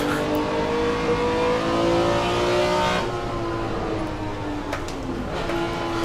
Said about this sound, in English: Driving around Willow Springs, another beautiful track for Assetto Corsa.